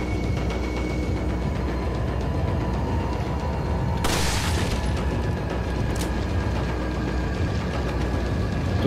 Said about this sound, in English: Shoot him with a rifle.